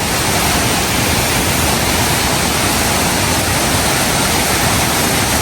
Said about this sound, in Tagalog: Ang ganda, lakas ng tubig.